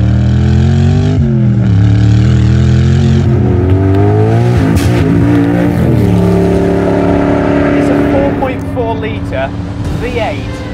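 Twin-turbocharged Yamaha-derived V8 of a Noble M600 supercar on track, a loud sustained engine roar with rising and falling revs throughout, a brief lift near the middle and fading slightly toward the end.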